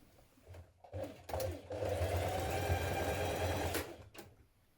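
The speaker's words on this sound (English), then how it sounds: "we can catch that down with some bar tacks through the right side, just here and just here on the front" A sewing machine stitches bar tacks on the front of trousers to hold a guard in place: a few short stuttering bursts, then one sustained run of rapid stitching that stops abruptly, close and clear.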